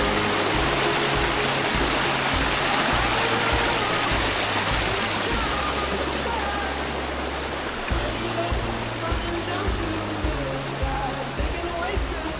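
A New Zealand waterfall gives off a steady, dense roar of rushing water that runs unbroken throughout, with a low rumbling undertone beneath it.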